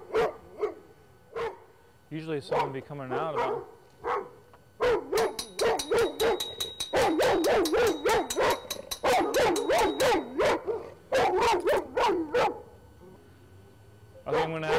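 Two dogs in a backyard bark, yip and whine in loud, close, overlapping bursts, while a person talks briefly between them.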